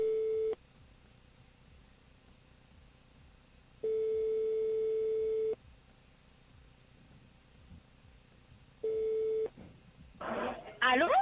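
A telephone ringback tone sounds on a call, three long steady beeps separated by pauses of silence, fairly clear, followed by brief rustling and a voice at the end.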